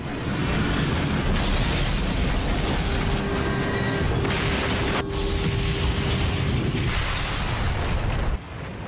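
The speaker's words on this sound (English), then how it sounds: "Flight 587 slams into the ground" Roar of passenger jet Flight 587 crashing into the ground: a continuous loud, dense rumble with a sustained tonal whine, a sharp impact around the middle, and a sudden drop in level just before the end, with no speech.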